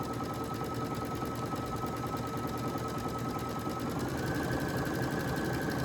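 A Brother Essence VM5200 sewing machine runs steadily, stitching a double zigzag pattern with a continuous close mechanical whir and rapid needle chatter for the whole stretch, no talking.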